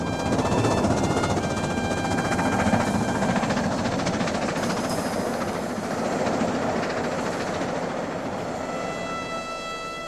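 A steam locomotive, the Duchess of Hamilton, runs on a British main line, giving a steady loud rumble and rolling roar with faint rhythmic rail clatter throughout, no voices.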